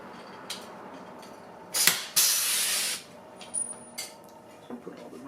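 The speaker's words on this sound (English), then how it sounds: "so I'm just going to use a rivet." 3/16 rivets are set on a Jeep Wrangler JL roll bar: a sharp snap, then a second crack with a hissing burst lasting under a second, surrounded by lighter clicks and handling noises.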